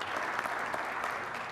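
An audience at a technical forum on 400G data-center optics applauds presenter André, a dense, even spread of many hands clapping at steady loudness, heard alone without any talk.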